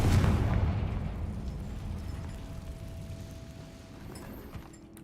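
A Confringo fire spell explodes in the game Hogwarts Legacy, a loud deep boom at the start that rumbles and slowly fades over several seconds.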